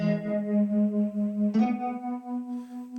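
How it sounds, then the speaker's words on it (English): Electric guitar played through a standard guitar amp rig with a Juno-style chorus effect, a sustained chord with a shimmering, wavering tone, restrummed once midway, loud and alone without talk. "I put a normal guitar rig on and a Juno chorus."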